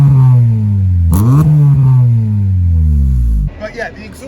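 Honda Accord CL9 with a 4-inch exhaust from Dudley Exhaust Centre revs up close and loud, the deep exhaust note climbing and dipping through a couple of throttle blips before dropping off sharply.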